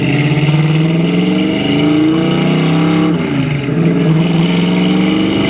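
Restored 1966 Ford Mustang with a 3-speed on a test drive, its engine droning loud and steady from inside the car, rising and dipping in pitch through a gear change.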